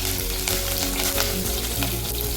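Green chillies sizzling in hot oil as they go into the pan for Kumbakonam kadappa, a loud, close, constant crackle with faint stirring scrapes and no talk.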